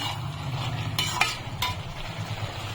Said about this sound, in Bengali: এখন নেড়ে চেড়ে দিচ্ছি।